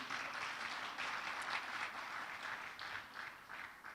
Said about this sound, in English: A round of applause, ladies and gentlemen, for Victor Fafomi